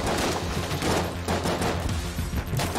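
Rapid, continuous magnum gunfire from the video game Enter the Gungeon, a dense run of overlapping shots holding steady and loud across the whole stretch with no talk over it.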